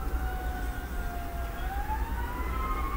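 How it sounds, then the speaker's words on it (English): Wailing emergency sirens from fire trucks sweep up and down in pitch at moderate distance, sounding steadily for the full stretch over a low rumble of background noise. "like the sirens are going off. And the fire trucks."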